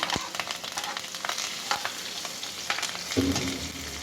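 Curry leaves sizzle in hot oil with onions for an onion chutney, a steady crackling fry with a few spatula scrapes and a louder spit near the end.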